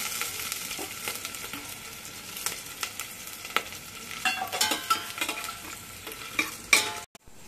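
Cashew nuts frying in ghee in a pan, stirred with a utensil; a steady sizzle runs throughout, with repeated scraping and clinking strokes, and a brief cut near the end.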